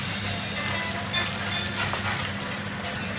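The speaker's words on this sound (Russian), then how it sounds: "Мы берем, жарим перца на сковородке." Chicken hearts sizzling in a frying pan: a steady crackling hiss with scattered pops, close by, over a low background hum.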